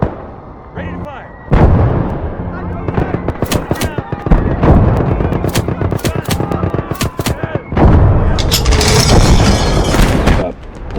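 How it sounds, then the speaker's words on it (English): Heavy artillery fire in the World War II strategy game Call to Arms: Gates of Hell, loud booming blasts and rapid gunfire crackle in dense overlapping bursts, with a voice occasionally heard among the explosions. "Crap, that artillery."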